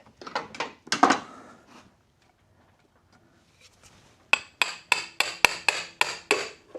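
Sharp metallic whacks against a dual clutch part being knocked loose on a 2012 Ford Focus, an early burst of clanks, a pause, then a steady series of about eight ringing hammer blows close up.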